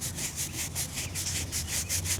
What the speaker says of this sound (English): The nylon brush here makes it pretty easy.